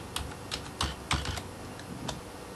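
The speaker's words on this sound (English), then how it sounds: "and then I type in my password" A password is tapped out on a computer keyboard, a short run of crisp, close keystrokes at an irregular pace with a few louder presses, and no talking.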